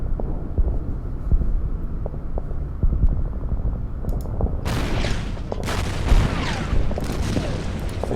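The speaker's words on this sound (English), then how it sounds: "Artillery." Artillery fire in the wartime strategy game Order of Battle: Blitzkrieg, a low rumbling boom bed with dull thuds, then several sharp bursts of shell impacts and crackle toward the end, loud and alone with no voices.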